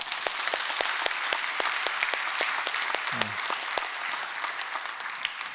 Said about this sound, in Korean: 하나님께 영광의 박수 하겠습니다.